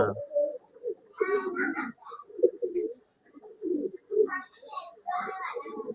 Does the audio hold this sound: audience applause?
no